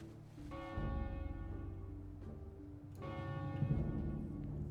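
A bell-tower bell tolls in World of Warcraft during Wrath of the Lich King Timewalking, two deep, ringing strikes with long resonant decay, the second louder, alone with no talk.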